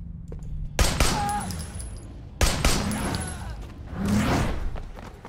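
Gunfire from the Sleeping Dogs video game: two sharp bursts of shots, each followed by a ringing decay, then a whooshing impact near the end, with faint voices underneath.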